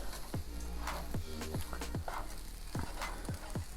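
Chicken fried rice sizzles steadily in a pot on the stove, with repeated short stirring scrapes against the pan over a continuous frying hiss, close and fairly quiet.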